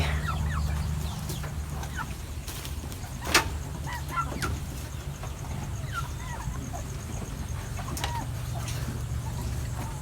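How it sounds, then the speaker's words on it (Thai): Chickens cluck in a coop at a rural village in Loei province, Thailand, with scattered near and distant calls and an occasional rooster over a steady low background hum. "พาทุกคนมาเบิ้งเหล่าไก่"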